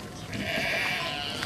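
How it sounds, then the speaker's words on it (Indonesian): Sheep bleat in a pastoral scene from a biblical film, a sustained, wavering bleat that holds steady over a noisy background. "Domba-domba itu mencoba kabur."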